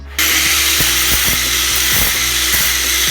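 A loud, high-pitched power drill whines steadily, with brief dips and catches as the bit bites into a metal piece; no one speaks.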